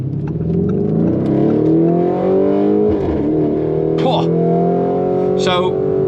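Lamborghini Urus engine pulling hard, loud rising harmonics climbing through gears with short shift breaks and a deep continuous exhaust drone close by.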